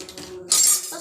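Metal cutlery clinking as a knife is picked up in a home kitchen: a brief bright jingle of utensils knocking together, close and fairly loud, with a second short clink at the very end.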